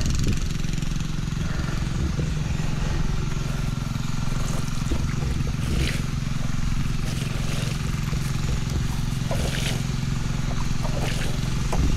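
Steady drone of a boat running on two engines, a loud, even motor rumble with faint splashing and occasional voices underneath.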